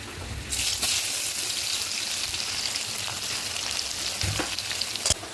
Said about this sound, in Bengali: এবার দেবো এর মধ্যে এই যে কুচনো পেঁয়াজটা তেলের মধ্যে দিয়ে নেব